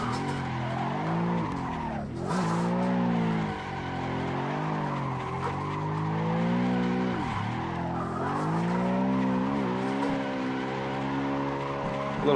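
BMW E92 or Supra drifting in Assetto Corsa, the engine revving and wavering through long sliding arcs while the tires squeal steadily, loud and continuous with short dips between corner entries.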